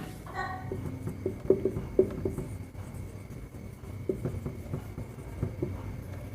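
Marker or chalk scratches and taps across a classroom board in short irregular strokes, soft and close, with a few sharper knocks between quieter rubbing.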